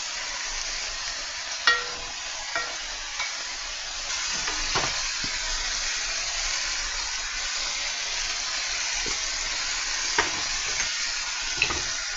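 Gyro meat seasoned with salt, pepper and garlic salt sizzles in a pan on medium-high heat, a steady close hiss broken by scattered pops and crackles, with no one speaking.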